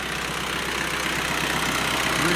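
A Land Rover recovery truck with a Stage One V8 conversion idles steadily and close up, a continuous low rumble with no voices.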